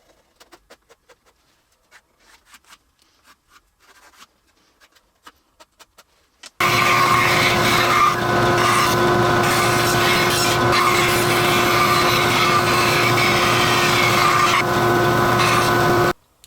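A bandsaw rough cuts wooden stool legs, running loud and steady with a sustained whine for about ten seconds after a stretch of quiet, faint handling taps, then stopping abruptly.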